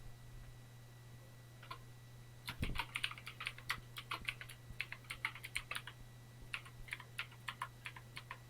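Someone types a password on a computer keyboard, a quiet run of crisp, irregular key clicks alone over a low steady hum, beginning with a single tap and then a quick burst of keystrokes.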